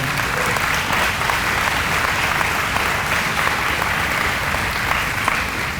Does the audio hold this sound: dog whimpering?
no